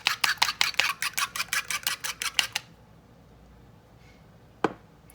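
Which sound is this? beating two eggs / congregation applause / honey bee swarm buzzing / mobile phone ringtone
beating two eggs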